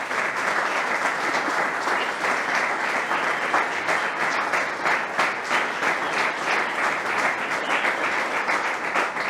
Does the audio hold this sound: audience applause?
yes